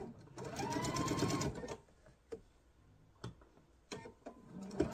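A sewing machine stitches a 16-patch quilt block in a steady rapid burst, then stops, leaving scattered clicks and fabric handling, with a voice briefly heard.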